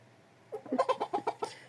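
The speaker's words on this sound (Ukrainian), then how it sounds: "Курочки не молоді, минулорічні іменно ця і ще одна чорненька" Last year's laying hens give a short run of close, rhythmic clucks, about seven quick pulses after a brief quiet start, with no talk over them.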